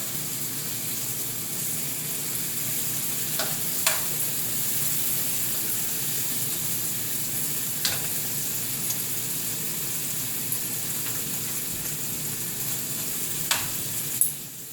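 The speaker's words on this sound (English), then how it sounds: "Flip the bacon every now and again to make sure you don't burn it." Bacon frying in a skillet gives a steady close sizzle throughout, broken by a few sharp pops and light clicks of tongs or utensils at intervals.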